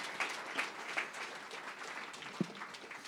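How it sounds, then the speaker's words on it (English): An audience at a tech launch event applauds a presenter with soft, steady, fairly distant clapping, a few louder claps standing out near the start. "big round of applause for Da Hung Fei"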